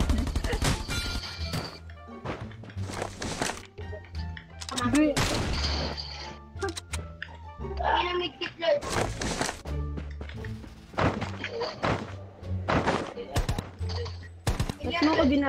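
Rapid bursts of gunfire and automatic weapon fire crackle through a video game match, loud and repeated across the whole stretch, with players talking and shouting over the shots.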